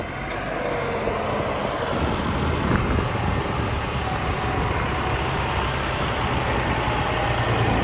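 A John Deere 5310 tractor engine running steadily out in the field, a loud, continuous diesel rumble with a gritty, even texture and no talk over it.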